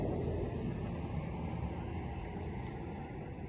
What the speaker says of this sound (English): Let this car pass.